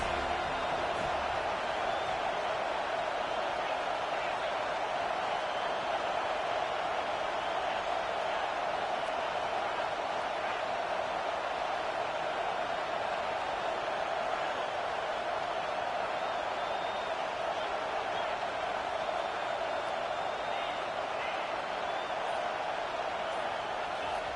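A steady, loud roar from a big stadium crowd at a college football game involving Florida State, holding as one unbroken wash of noise from start to finish.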